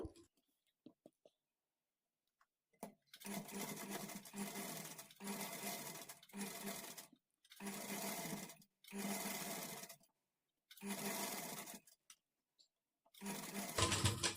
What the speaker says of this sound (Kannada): ಇದ್ರ ಮೇಲೆ ನಾವು ಎಡ್ಜ್ಗೆ ಒಂದು ಕಿನ್ನಾರಿ ಸ್ಟಿಚ್ ಹಾಕ್ಕೊಳ್ಬೇಕು